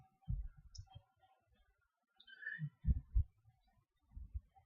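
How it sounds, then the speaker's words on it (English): Computer keys are typed in short clusters of soft clicks and taps, separated by pauses, close and fairly quiet, with no voice. "let me type JDK"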